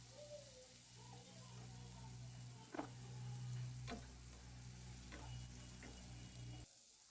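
Ground rice flour being stirred and roasted in a pan for rice kheer, a soft steady sizzle with a few faint scraping strokes, close and quiet under a low background hum.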